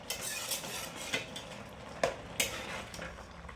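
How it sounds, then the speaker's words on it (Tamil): A ladle stirs lentil and snake gourd kootu in a pot, producing quiet scraping and a light bubbling sizzle with a few sharper clinks of metal against the pot, fairly faint and close, with no speech. "கிண்டி விட்டுக்கலாம்."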